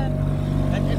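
Boat engine drones steadily at close range while setting off toward an island, a low continuous motor rumble under a voice speaking.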